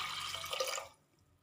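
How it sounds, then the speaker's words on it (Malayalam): Water poured into a cooker holding sambar ingredients, a splashing liquid rush that runs close and steady for about a second, then stops abruptly into near silence. "ഇനി ഇതിലേക്ക് വെള്ളം ഒഴിച്ച് കൊടുത്തിട്ട്,"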